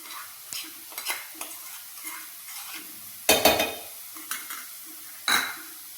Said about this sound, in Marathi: आता मी यामध्ये पनीर टाकते 1 वाटी।